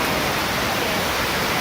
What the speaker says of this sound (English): It's actually raining pretty good, though. Pouring down